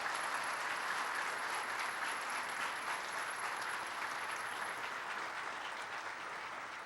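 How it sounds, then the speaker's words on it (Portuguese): Sustained applause from an audience at the opening session of a Brazilian civil procedure law conference, a dense even patter that fades slightly toward the end. "eu peço uma salva de palmas para essa grande processualista, Ada Pellegrini Grinover."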